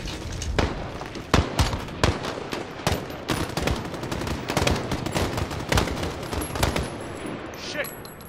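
Rapid automatic gunfire from Call of Duty: Modern Warfare crackles in dense, irregular bursts of sharp shots, steady and loud throughout with occasional louder cracks, no voices over it.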